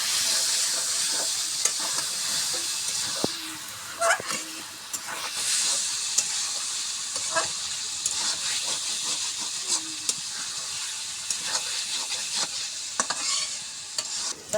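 Ash gourd and egg curry fries under a lid in a pan, giving a steady bright sizzle and hiss with occasional stirring scrapes and knocks, close and continuous throughout.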